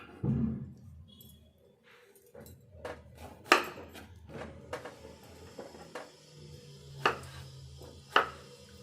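A knife cuts peeled bottle gourd into thin pieces on a board, sharp irregular taps and chops at a moderate pace, close and fairly quiet with no talking.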